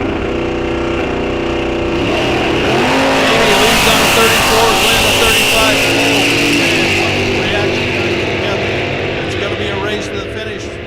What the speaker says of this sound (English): Both leave the line very well. Big block Camaro and a big block Buick.